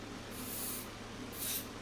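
Lubricant sprayed from an aerosol can onto a padlock, heard as two short hissing bursts about a second apart over a steady low background hum, close and without talk.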